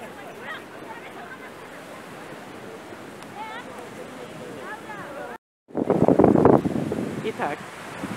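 Wind and surf at a beach in Alicante make a broad, rushing roar with heavy buffeting on the microphone. Voices murmur faintly underneath, the sound cuts out briefly, then returns louder.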